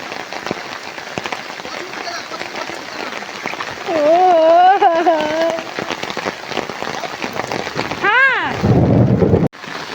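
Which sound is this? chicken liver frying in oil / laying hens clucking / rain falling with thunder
rain falling with thunder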